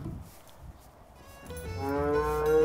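Cows at a children's farm lowing in a long, rising moo that grows louder toward the end, close by, after a quieter stretch of farmyard background.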